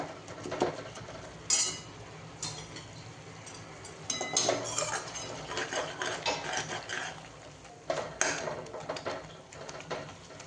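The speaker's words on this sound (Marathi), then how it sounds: "तर या पळीनीच त्याला असं दाबून घ्यायचं आहे" A metal ladle clanks and scrapes against a steel pot while mashing tomato into dal, with irregular nearby knocks and scraping strokes, fairly close and moderately loud, no speech.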